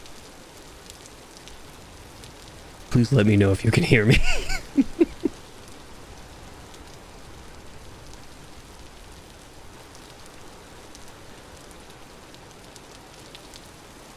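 Rain falls steadily in a constant soft hiss that runs the whole way through. A person talks briefly near the start, and the rain carries on alone afterward.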